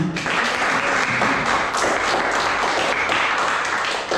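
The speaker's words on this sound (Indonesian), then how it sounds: "Minta doang tepuk tangannya." A school audience of teachers in Badung, Bali applauds continuously at a training presentation, a dense, steady wash of many hands clapping close by with no pauses.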